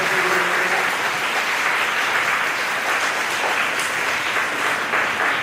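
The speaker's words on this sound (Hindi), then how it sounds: "तालियां आपकी होती रहे" An audience at the closing ceremony of a folk dance workshop applauds with dense, steady clapping. The clapping stays loud and continuous throughout.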